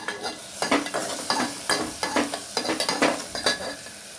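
Onion paste frying and being stirred in a pan for a potato and drumstick curry, with a steady sizzle broken by repeated scraping stir strokes, close and fairly loud, no talking.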